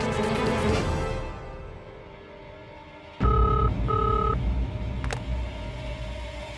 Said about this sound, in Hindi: घर पे करता हूँ फोन।